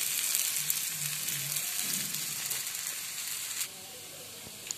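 An adai, a lentil pancake, sizzles steadily on a hot pan, a soft continuous frying hiss heard up close and fairly quiet, with a faint low voice briefly audible.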